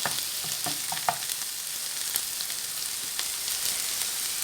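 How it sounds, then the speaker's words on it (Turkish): Zucchini and onion sauté in an oiled pan, giving a steady, close crackling sizzle with faint stirring clicks throughout and no voices. "Birazcık kabak da soğanla birlikte sotelenecek"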